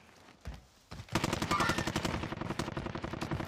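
Rapid automatic machine gun fire from the video game Warzone, a dense sustained burst of evenly spaced shots after a couple of isolated cracks, loud and close with no talk over it.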